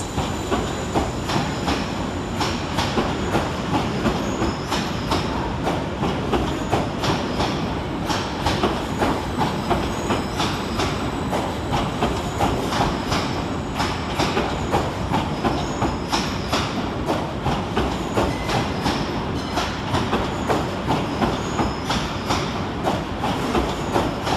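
A Greater Anglia Stansted Express train pulls out of London Liverpool Street station, its wheels beating a steady, loud clickety-clack over the rails with a continuous rumble throughout.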